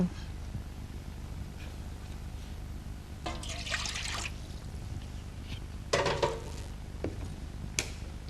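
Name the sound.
hot water being poured and mixed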